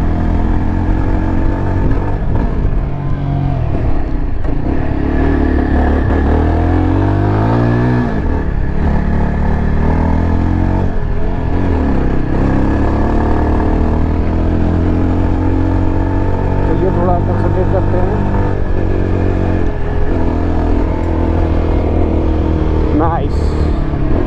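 A Yezdi Adventure motorcycle engine runs steadily and loudly throughout, its pitch rising and falling through gear changes while riding, with a voice talking over it.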